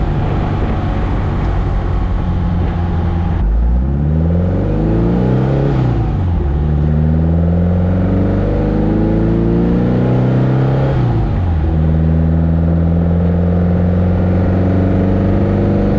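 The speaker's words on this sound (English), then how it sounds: "It definitely has a Porsche sound to it for sure." A Porsche 550 Spyder replica's engine runs close by, a steady idle that revs up and settles back down twice, its pitch rising and falling in smooth sweeps with no voices over it.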